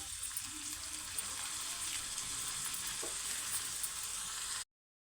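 Cabbage being stirred into a tomato curry in a pan, giving a steady, quiet frying sizzle with faint scraping and one brief clink, no talk, cutting off near the end.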